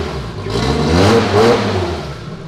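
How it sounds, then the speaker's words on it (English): A four-door Toyota Supra's engine revving hard and high, a loud, close, sustained roar that swells twice over a couple of seconds with no talk over it. "You gotta rev it real high."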